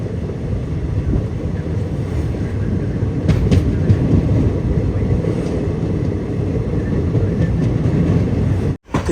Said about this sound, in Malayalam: ഇവിടുന്ന് ഇപ്പോൾ വണ്ടി എടുക്കും